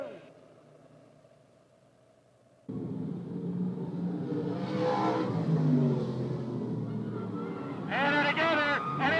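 Race cars charging around an oval track during a crash-filled race, a loud engine roar swelling as cars pass, under an excited commentator's voice.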